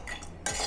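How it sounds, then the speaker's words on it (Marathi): Sliced dried coconut being roasted and stirred in a kadhai, with a metal spoon scraping and clinking against the pan; a short soft scrape is followed by a louder, brighter scraping clatter. "त्याच कढईमध्ये मी आता खोबरं भाजून घेते."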